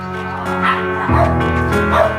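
A crowded pack of dozens of puppies kept in a filthy, overcrowded space, yipping and whimpering together in a loud, continuous, close-up chorus of overlapping high cries.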